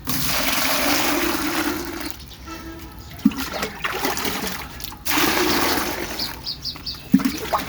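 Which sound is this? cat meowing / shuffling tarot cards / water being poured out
water being poured out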